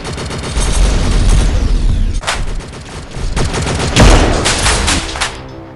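Loud, dense automatic gunfire from the shooter game Infinity Ops, rapid bursts of shots with brief gaps, close and heavy, and no talk over it.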